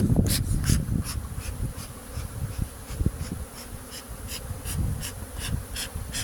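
Many honey bees buzz continuously at close range at a hive being smoked, a dense steady hum with individual insects droning past now and then.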